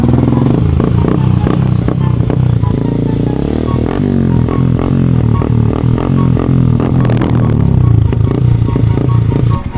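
Modified motorcycle with a stainless exhaust elbow revving loudly and steadily, engine roar with rising and falling pitch and some rattling clatter throughout, close up and continuous.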